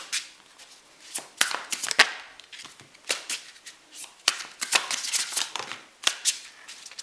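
Tarot cards being shuffled by hand close up: a string of crisp riffling flutters and slaps in uneven bursts, with brief pauses between them.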